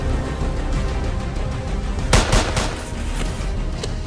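Gunshot sound effects in a short film: a couple of sharp, loud bursts ring out close together over a dense, noisy action backdrop, with no talking.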